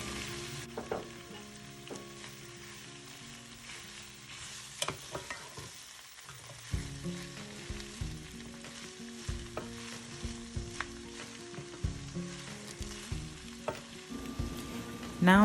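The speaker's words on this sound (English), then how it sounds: "now we're going to add in our green peppers, and we're going to let those also cook for about 2 to 3 minutes" Onions and green peppers fry in a pan for a Southern fried cabbage dish, giving a soft continuous sizzle with frequent spoon stirs and scrapes, close and clear with no talk.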